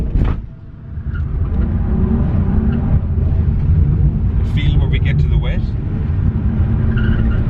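A drift car in second gear roars with a loud, sustained engine revving and tire noise on a wet track, heard up close under someone talking.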